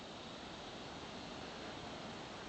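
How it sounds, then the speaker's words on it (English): Lagoon Creek near Bilpin in the Blue Mountains flows in a steady, even rush of water, constant and fairly soft, with no voices or other distinct sounds. "Well, that's just the creek still."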